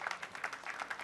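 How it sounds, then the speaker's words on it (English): Audience applause at a road junction commissioning by Governor Godwin Obaseki, a brief, fairly faint patch of scattered clapping. "a round of applause"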